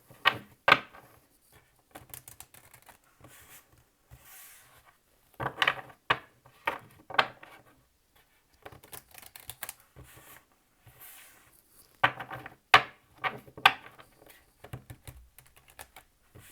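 Close, crisp tarot card shuffling in irregular bursts of riffling and tapping, separated by short quiet pauses, with no voices.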